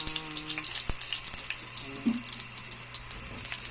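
Chopped garlic sizzles steadily in a hot pan, a constant crackling frying noise with no voices over it.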